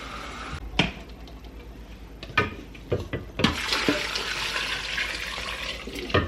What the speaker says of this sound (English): we're gonna add water in here to cover the potatoes and salt